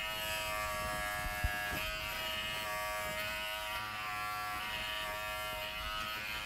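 A Wahl Figura lithium-ion cordless clipper buzzes steadily and close up while grooming the underside of a standard poodle, a constant electric hum with faint rustling and no speech.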